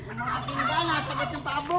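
A turkey gobbles in a rapid, warbling burst, fairly close and over a steady low background hum, with voices chattering alongside.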